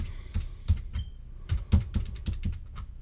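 Fingers tap on a computer keyboard set right in front of the microphone, giving close, uneven clicks in short bursts with brief pauses between keystrokes.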